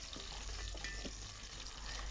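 Chopped onion sizzles and crackles while frying in a rice cooker with whole spices, a steady close hiss with small pops and faint stirring, no voices.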